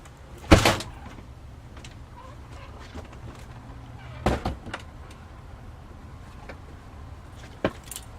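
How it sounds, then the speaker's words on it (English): Indoors, a door is opened and held open: a sharp clunk, then a few quieter knocks and rattles spaced apart, in a fairly still room. "Hold on, I gotta keep the door open again."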